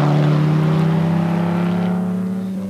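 Jaguar S-Type race car circling the Silverstone circuit, its engine holding a loud, steady drone with strong harmonic hum throughout, close to the listener and slightly easing toward the end.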